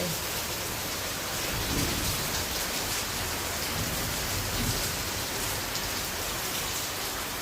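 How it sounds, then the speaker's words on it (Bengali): Heavy rain pours down in a dense, unbroken hiss, with faint low rumbles underneath; steady and loud throughout, with no one speaking. "ওরে বৃষ্টি, কি বৃষ্টি আজকে।"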